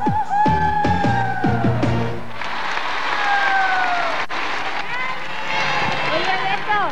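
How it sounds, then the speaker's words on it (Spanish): A children's show audience applauds and cheers loudly over the close of a song, the clapping steady beneath sung and spoken voices. "Todos nos ayudaron aplaudiendo bien fuerte."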